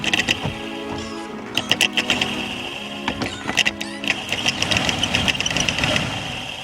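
The rusty cabin blower fan motor of a 2004 Volkswagen Caddy runs up close with a steady whine, under rapid uneven ticking and rattling knocks that come in clusters.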